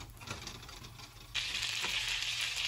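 Butter sizzling in a hot pan while cooking burger steak, a soft crackle that swells suddenly into a louder, steady fry partway through, close up, with no voices.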